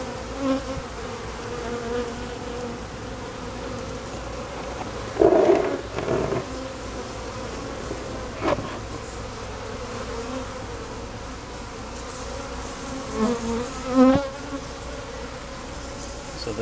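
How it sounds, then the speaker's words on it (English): Late-season honey bee swarm gathered in a trash can, bees fanning their wings with a dense continuous buzz close by, individual bees flying past in louder passing hums. "they're going to smell her and start fanning their wings to call the others over"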